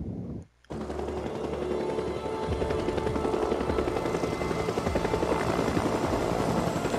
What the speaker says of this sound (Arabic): هذه طيارة نيرو